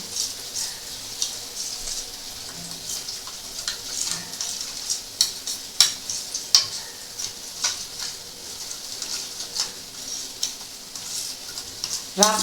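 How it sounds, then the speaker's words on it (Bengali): A spoon stirs chili and turmeric powder with water into a paste for a mutton liver curry, giving quick, close clinks and scrapes against a bowl in an uneven rhythm over a quiet background. "এটাকে একটু জল দিয়ে পেস্ট বানিয়ে নেবো"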